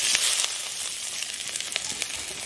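Hot oil sizzles and crackles steadily with a bright hiss as chilli, ginger and garlic temper for veg manchurian, small pops scattered through it, close up and with no talking.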